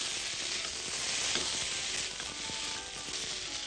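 Broccoli, baby corn and carrot stir-fried with cornflour and vinegar sizzle steadily in a hot pan, with occasional soft scrapes of stirring, close and moderately quiet.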